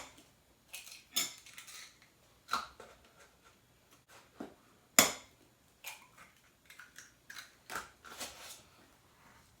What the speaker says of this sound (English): And then cracking 2 eggs.